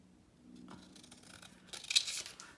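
Scissors snip through a watercolor paper card, cutting it in half: a few close, crisp crunching cuts building to a louder, brighter slice near the end, with no talking.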